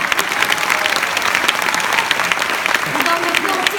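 Steady clapping from a crowd at a live comedy performance, thick and continuous for the whole stretch, with some speech blending into the ovation.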